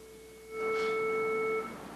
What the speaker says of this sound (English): I just added together 3 tones in the ratio 1:3:5 in frequency